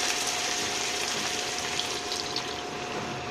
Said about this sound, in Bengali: এখন আর একটু সিদ্ধ হওয়ার জন্য পানি দিয়ে দিব।